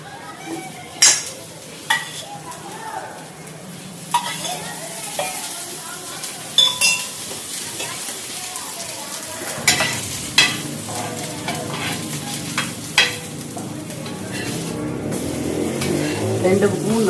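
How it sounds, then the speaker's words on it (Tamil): Burger patties frying in oil in a pan, with a steady sizzle under intermittent clinks and scrapes of a utensil against the pan while a person talks over it. "பேட்டிஸ் பண்ணோம்ல அதை சூட போகிறோம்."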